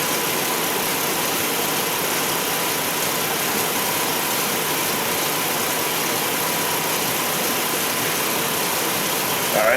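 A car engine idles steadily with the headlights and blower motor switched on under full electrical load, a continuous mid-pitched hum with a faint whirring blower, close and unchanging throughout, no voices.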